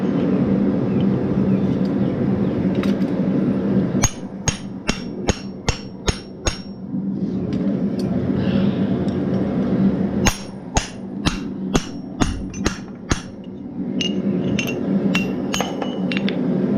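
A blacksmith hammers a drift through hot metal at the forge, two bursts of sharp, ringing blows in quick, even rhythm, with a steady roar underneath between the strikes.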